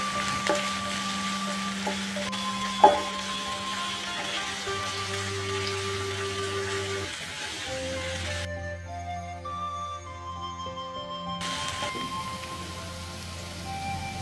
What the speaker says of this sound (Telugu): ఈ అల్లమెల్లుల్లి పేస్ట్ పచ్చికం పోయే వరకు మనం వేపుకోవాలి.